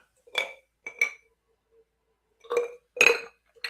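Ice clinks against a glass of mineral water in a few sharp, close taps, grouped in pairs with quiet pauses between, with no talk.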